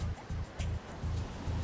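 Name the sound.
ocean waves breaking on a reef beach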